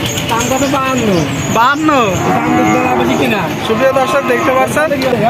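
At an outdoor cattle market in Jessore, a cow lets out loud, drawn-out moos close by, one after another, while a crowd's voices murmur in the background.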